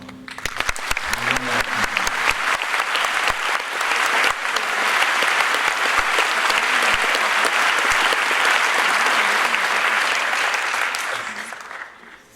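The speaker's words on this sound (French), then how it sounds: "je vous demande tout de même de l'applaudir en guise de au revoir" Audience applause at the opening ceremony of an international film festival in 2015, a dense, loud, sustained roar of clapping from a full hall that holds steady for several seconds and then tapers off at the end.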